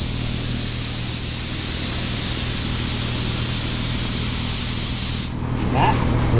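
A paint spray gun applies a first coat to a Dodge Viper ACR fender, a loud, close, continuous broadband hiss for about five seconds that then cuts off abruptly.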